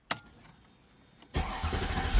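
Mercedes CLK55 AMG engine starting: a brief click, a short quiet pause, then the engine fires and settles into a loud, close idle.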